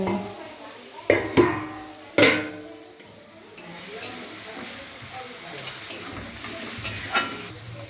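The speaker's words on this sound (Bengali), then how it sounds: "পেঁয়াজটা এখানে ভাজা হচ্ছে হালকা আস্তে আস্তে হচ্ছে" Onions frying slowly in a pan for a Bengali chicken curry, a soft continuous sizzle broken by several sharp clanks and scrapes of a spoon stirring against the metal, fairly close.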